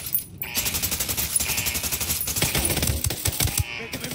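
Rapid automatic gunfire in the shooter game Ghost Recon Wildlands during a night raid, with dense bursts of sharp cracking shots rattling off in quick succession, loud and close with brief pauses between volleys.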